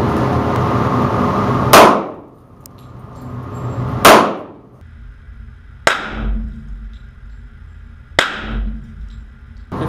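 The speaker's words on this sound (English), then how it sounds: "Okay, this time, 45 ACP, hollow point, and then a ball run." .45 ACP hollow point rounds strike an armored car door in four sharp, loud metallic impacts spaced roughly two seconds apart, each ringing briefly before fading.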